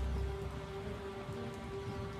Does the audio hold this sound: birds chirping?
no